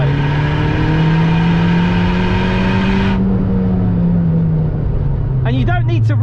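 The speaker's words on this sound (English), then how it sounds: "you can rev it to 7." A turbocharged VW Polo WRC engine holds a loud, steady rev with a rising whine, then drops back to a rumbling idle close by.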